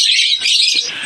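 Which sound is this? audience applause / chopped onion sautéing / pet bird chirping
pet bird chirping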